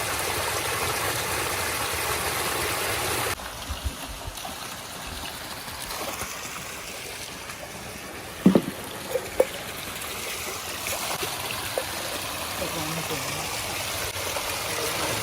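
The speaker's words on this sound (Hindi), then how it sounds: "ये यहाँ से ये माँ नर्मदा जी की धारा आ रही है" Steady rushing water from the Narmada river's stream emerging from a pool in dense forest, heard close and continuous for the whole stretch, with a few faint knocks partway through.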